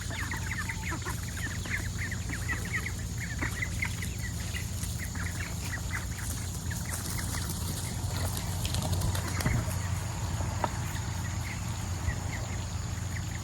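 Several chickens cluck and murmur at a steady low level outdoors, with occasional sharper clucks and faint rustling, no talking.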